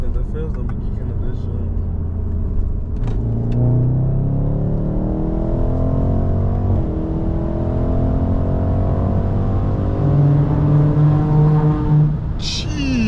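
A BMW M550i V8 revs hard with a steady, loud, rising engine note that runs throughout, and people talk over it.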